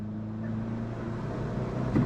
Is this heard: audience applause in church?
no